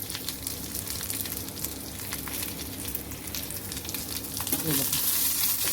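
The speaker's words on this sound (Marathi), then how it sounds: "आता इथे तुम्ही लाल मिरच्या घाला किंवा लाल मिरची पावडर घाला थोडंसं भाजून घ्यायचं आहे" Red chillies and curry leaves roast in hot oil for bitter gourd chutney, a continuous close crackling sizzle with occasional stirring that grows louder and spattery near the end.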